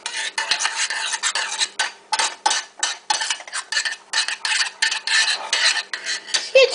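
Food being stirred and tossed in a pan over medium heat for a Chinese lunch, a loud, close, steady run of rhythmic metallic scraping strokes with no voices.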